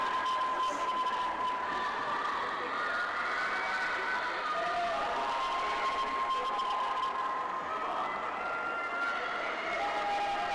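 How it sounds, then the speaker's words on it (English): Spectators cheering on swimmers at a high school swim meet between Swampscott and Beverly, a steady, echoing indoor crowd roar with whistles and shouts rising through it, heard from a distance throughout. "Everybody cheering on their teammates"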